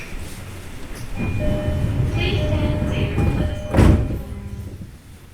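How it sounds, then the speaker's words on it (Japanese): Doors close on a JR Ome Line E233 series commuter train, heard from inside the carriage over the low rumble of the stopped train, with tonal chimes, a voice announcement and one heavy thunk of the doors shutting near the end. "2番線ドアが閉まります。"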